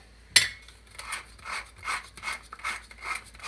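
Seeds ground by hand for a bean burger, heard as a sharp knock followed by a steady series of rhythmic rasping, scraping strokes, close and fairly loud with no talking.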